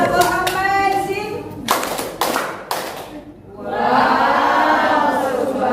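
A classroom of children does a rhythmic 'tepuk amazing' clapping routine, sharp bursts of claps and taps in quick groups, followed by a loud drawn-out group shout, with kids' voices throughout.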